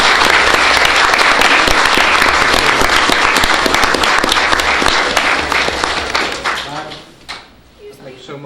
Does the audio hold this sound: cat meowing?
no